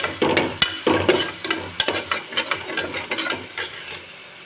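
Onions and green chilli paste sizzle and fry in a pan while being stirred to golden brown for a street-style ragda samosa chaat, with a steady run of close scraping strokes over a constant hiss.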